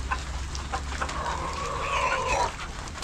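Hens among sweet potato shoots in a rural yard, a clear clucking call rising over steady background noise and scattered soft sounds, with no talk.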